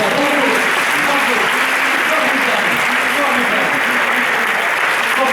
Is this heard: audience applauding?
yes